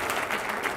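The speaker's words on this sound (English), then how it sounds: "All right, round of applause" A short, even wash of audience clapping at a university executive lecture, moderately loud and continuous, with no talk over it.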